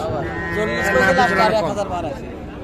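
A Sahiwal bull lows at a busy cattle market, its drawn-out call mixing with loud nearby voices of people talking.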